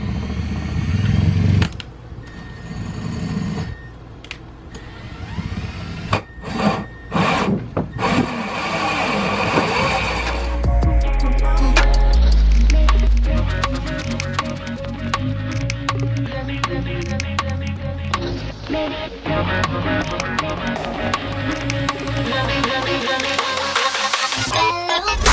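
A drill spins a hole saw in reverse to burn through material while a washer/dryer combo is installed in an RV, giving a loud, rough, sustained grinding whir that runs steadily through most of the clip.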